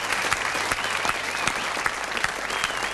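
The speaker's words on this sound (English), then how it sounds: "give him a round of applause" A television game show studio audience applauds steadily for a returning guest, a dense, even clatter of many hands close by with no talk over it.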